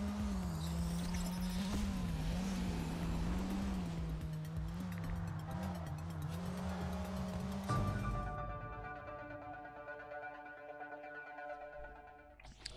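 Cars race in a PSP racing video game, with a steady droning engine note that wavers in pitch and fades after several seconds into a soft synthesized tone with no talking.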